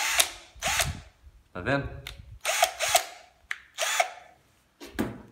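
A cordless screwdriver drives a screw in short, separate whirring bursts with brief pauses between them. Someone speaks briefly at one point.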